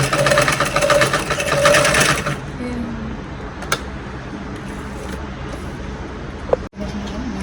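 A sewing machine stitches a sari being made into an anarkali, running loud and close for about two seconds, then stopping into quiet room noise with a few small clicks.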